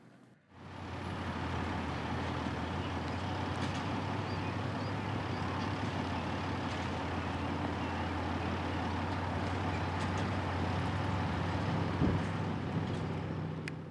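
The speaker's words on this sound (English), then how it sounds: "The New Holland automatic bale wagon is a real time saver in the field." New Holland 1069 automatic bale wagon working a hay field, a steady low engine drone with faint mechanical rattles, constant and moderately distant throughout.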